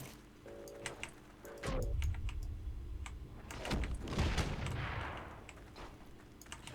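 Gunfire from enemies aimed at the player in the World War II shooter Heroes and Generals, scattered sharp cracks and bursts with some rumbling impacts, moderately distant within a layer of ambient game noise.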